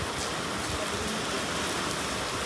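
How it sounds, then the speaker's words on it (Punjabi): Rain falling on a cold day in Punjab, a dense, even hiss of drops that holds steady and moderately loud throughout, with no voices heard. "ਦੇਖੋ ਇਸ ਤਰ੍ਹਾਂ ਮੀਂਹ ਪੈ ਰਿਹਾ ਸਾਡੇ ਤੇ"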